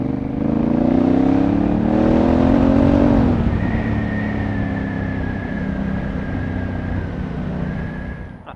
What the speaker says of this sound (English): Sounds like a proper dirt bike.